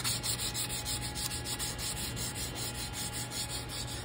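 Steady back-and-forth rubbing of sandpaper on a wooden flintlock rifle stock, close and continuous with an even rhythm, no talking.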